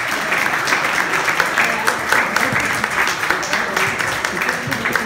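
Audience applause at a spoken-word poetry duel in a 2018 competition round, a steady dense clapping wash that fills the whole stretch with voices mixed through it.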